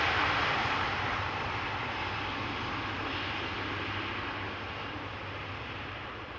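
An airliner arriving at Amsterdam Schiphol Airport roars steadily overhead, a broad continuous engine rush that slowly fades as it passes, heard from outdoors with no talking.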